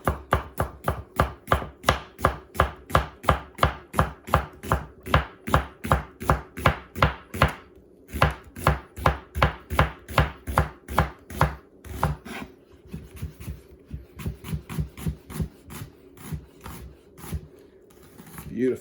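Rapid knife chopping of a whole onion on a cutting board for ramen soup, a steady run of close, crisp, evenly spaced blade strikes that pauses briefly twice before resuming at a slightly looser pace.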